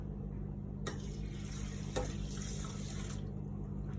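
Cold tap water poured onto rice in a pot while making sushi rice, a continuous splashing rush with a few sharper splashes, close and fairly steady.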